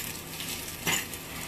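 Pasta tossed in a hot skillet with vinegar gives a brief, close sizzling scrape with a soft metallic clink at its peak, set against a steady low hiss of frying.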